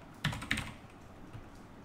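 Keys clack on a computer keyboard during a PC software setup, two sharp close strokes near the start followed by a few softer taps, with no talking.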